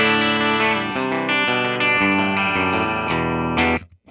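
A 1977 Gibson Les Paul Pro Deluxe electric guitar played through its bright bridge pickup, sustained distorted chords with chorus shimmer, changing every second or so and ending in a quick fade.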